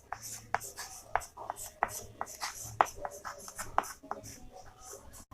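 Chalk or marker writing on a board while a geometry proof on parallel lines is worked out, a run of irregular scratchy strokes and taps, fairly close and quiet, with no talking over it.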